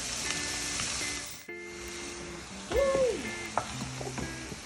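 Mushrooms frying in a pan with onion and garlic, a close crackling sizzle with the clatter and scrape of stirring, plus a short clank and a brief squeal partway through, no voices.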